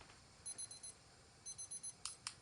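An exercise timer alarm sounds during a neck isometrics workout: a quick run of four high beeps, a pause, then five more, ending with two sharp clicks. It is clear but fairly quiet, with no talking.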